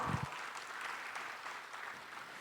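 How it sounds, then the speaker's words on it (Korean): An audience at a Korean government innovation expo opening ceremony applauds the minister with soft, continuous clapping from a sizeable crowd, heard at a distance after a brief voice. "장관님께 다시 한번 큰 박수 보내주십시오"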